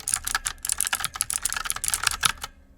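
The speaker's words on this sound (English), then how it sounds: "the clicky sound, these ones right here, this keyboard right here, it's a real cherry MX blue" Rapid typing on a clicky Cherry MX Blue mechanical keyboard, a close, bright burst of sharp key clicks in an uneven stream for over two seconds, then silence.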